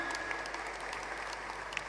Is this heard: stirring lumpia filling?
no